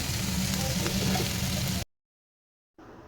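Jute greens hit hot oil with lightly fried garlic and onion, giving a steady, close sizzle that cuts out abruptly into silence before the frying noise returns near the end.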